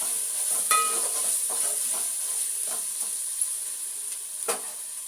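Spicy masala for chicken biryani, with tomato, frying in a pan, giving a steady close sizzle broken by a few soft stirring scrapes and small pops.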